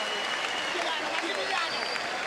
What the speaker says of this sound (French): il mérite les applaudissements, Stefanozov.